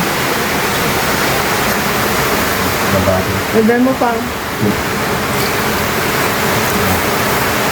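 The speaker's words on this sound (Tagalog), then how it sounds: "Malakas na yung ulan niya. Sabay hangin na yan." Heavy rain with wind pours down steadily as a broad, dense roar on a cold day, with a voice speaking briefly over it.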